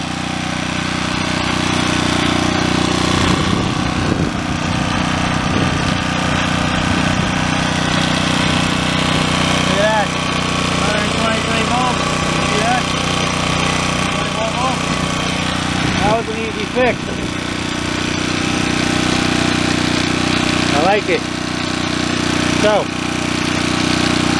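A Champion portable generator that runs but produces no voltage chugs steadily and fairly loud throughout, a continuous mid-pitched engine drone with occasional brief clanks, and no clear speech over it.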